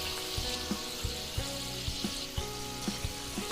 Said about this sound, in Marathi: थोडंसं कडक होऊ द्यायचंय त्याला तेलामध्ये।